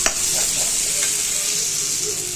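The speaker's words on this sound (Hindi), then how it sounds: "मसाला हमारा फ्राई हो गया अच्छे से" Spice masala fries loudly in a pan, a dense steady sizzle with a few soft scrapes of a spoon stirring it, close and alone.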